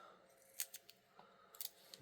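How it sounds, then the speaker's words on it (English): Scissors snip through fluffy craft material, a handful of quick, crisp, close cuts in short bursts, quiet overall. "let me trim this and cut this in half"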